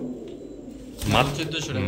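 Giribaz pigeons kept by a breeder give low, throaty coos close by, heard under someone talking.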